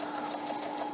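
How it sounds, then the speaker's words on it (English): A sewing machine fitted with a special foot stitches nylon rope onto fabric for a fruit protection bag, whirring at a steady, continuous pace, close and alone. "Okay, you should have that in your sewing machine."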